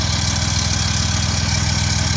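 A 1949 Plymouth Special Deluxe engine fitted with an Edmunds Customs head idles on first start, a steady, even low rumble with rapid regular firing pulses, loud and close with no talk.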